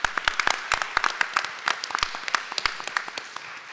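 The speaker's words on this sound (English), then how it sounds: "let's give them a round of applause" Scattered applause from a summit audience for the panelists, with distinct individual claps rather than a dense roar, tapering slightly toward the end.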